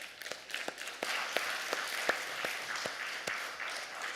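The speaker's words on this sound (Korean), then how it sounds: "하나님께 박수합니다" A church congregation claps after a sermon, a moderate, somewhat distant round of applause with distinct claps standing out over a steady wash for a few seconds.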